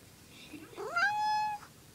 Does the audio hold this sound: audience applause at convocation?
no